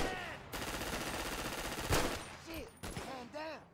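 Gunfire in GTA 5 crackling over a dense game soundscape, with one sharp, loud shot near the middle and a few brief tonal game effects toward the end.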